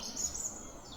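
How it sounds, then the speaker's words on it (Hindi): Birds chirp at sunrise in Taobat, Kashmir, a bright high tweeting call repeating in quick bursts over a faint outdoor hush. "इन प्यारे परिंदों की चहचहाने की है।"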